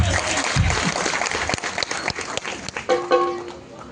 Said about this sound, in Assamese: আপোনালোকৰ হাত চাপৰি আমাক উৎসাহ দিয়ে আৰু জোৰকে চাপৰি মাৰক